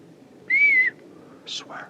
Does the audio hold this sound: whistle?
yes